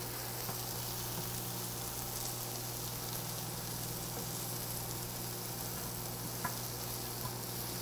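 Vegetables sizzle in a hot pan, a steady, fairly faint frying hiss with occasional small pops and stirring scrapes, heard alone without talk.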